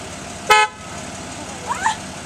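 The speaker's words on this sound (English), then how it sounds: "When that horn started honking?" Two bursts of a car horn, a loud single honk followed after a pause by a shorter double toot, outdoors with faint background noise.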